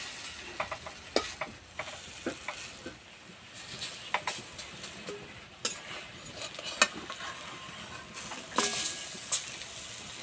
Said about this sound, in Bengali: এই বড়াগুলো ভাজতে একদমই সময় লাগে না